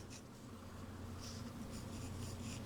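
Jinhao 619 or 777 extra-fine steel-nib fountain pen writing upside down on paper, a faint, close, dry scratching with short strokes over a low steady background hum.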